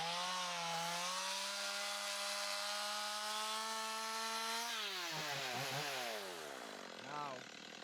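A chainsaw makes a back cut through a standing tree, its engine holding a loud steady drone under load, then pitching down and wavering as the bar binds and the cut finishes, with faint rubbing of wood near the end.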